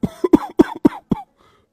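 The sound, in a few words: old man coughing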